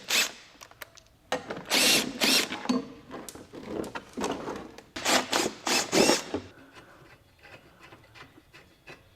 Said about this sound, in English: You actually have to take these screws out too.